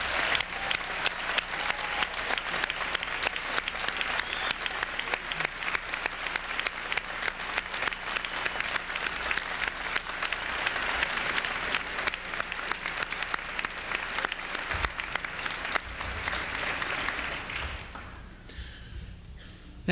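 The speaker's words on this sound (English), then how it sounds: "May we now have applause for the spouses, parents, and other family members who have given financial and emotional support to these 154." Applause at a law school commencement ceremony, a large audience clapping steadily in a hall for most of the stretch before the sound thins and fades away toward the end.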